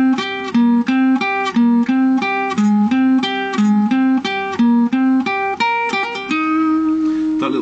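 A clean guitar plays a quick repeating riff in plucked notes with a steady rhythm, ending on a sustained ringing note.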